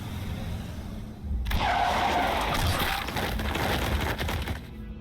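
A bus in the video game Limbus Company slams into someone, a loud rushing crash with skidding, grinding noise that swells suddenly and holds for several seconds over a dense rumbling background.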